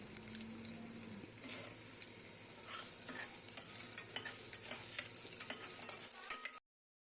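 Chopped turnip with peeled ginger and turmeric sizzles in a pan while a spoon stirs it, giving a soft, continuous frying hiss with light scraping clicks up close. The sound cuts off abruptly near the end.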